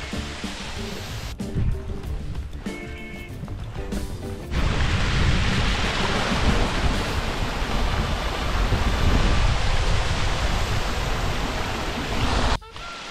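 Roaring rush of a waterfall near Clachtoll Beach in the Scottish Highlands, a broad, loud, constant wash of falling water close by, with some brief handling or wind noise at the start.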